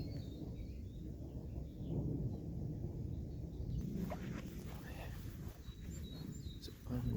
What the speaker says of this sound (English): The thunder is just non-stop.